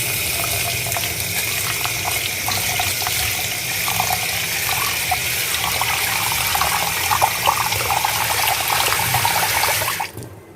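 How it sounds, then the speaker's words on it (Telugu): Water pours steadily in a continuous splashing rush, with a faint rising tone as a vessel fills with rice for soaking, ending abruptly near the close. "మనం ఆరు గ్లాసులు నీళ్ళు పోసుకుందాం అండి"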